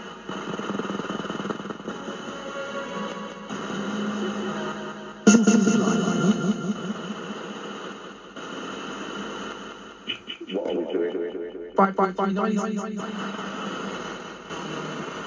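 Spirit box device sweeping radio stations through an echo effect, producing choppy bursts of garbled noise and fragments with reverberant tails, starting and stopping in uneven segments.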